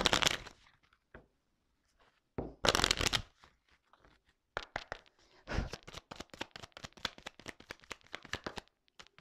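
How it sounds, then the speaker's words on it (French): Tarot cards are handled, drawn and shuffled close up, with bursts of riffling and sharp flicks separated by short quiet pauses, then a dense run of rapid card snaps. "je vais prendre quelques cartes, juste 3 cartes"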